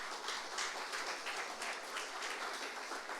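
A church congregation claps together in worship, producing a dense, even wash of applause that holds steady throughout, soft and somewhat distant, with no voices over it.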